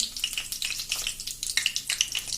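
Cumin seeds, a bay leaf and dried red chillies sizzle in hot oil, making a close, lively crackle with rapid spitting pops that come in bursts. No speech is present.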